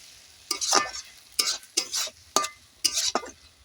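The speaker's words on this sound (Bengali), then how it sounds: "এই যে উপর থেকে আমি একটু ব্যারেস্তা ছড়িয়ে দিচ্ছি আবার একটু ভালো করে নেড়ে নিচ্ছি" A spoon stirs a pan dish topped with fried onions (barista), making about six distinct scraping strokes in an uneven rhythm, close and fairly clear.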